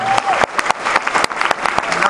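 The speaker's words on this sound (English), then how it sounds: "Let's give a round of applause to the Filipino." Applause for a Filipino dance performance at a barrio fiesta, with loud, steady clapping from a festival crowd and sharp individual claps standing out.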